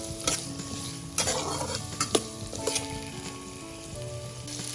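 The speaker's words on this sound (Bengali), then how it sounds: "গাজরগুলোকে হালকা করে আমাকে ভেজে নিতে হবে" Carrots are fried in a pan for vegetable fried rice while a spatula scrapes and clacks against the pan over a steady, gentle sizzle.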